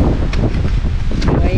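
Wind blows steadily through a forest with a dense, continuous rushing roar and gusty rustle that stays loud and close throughout.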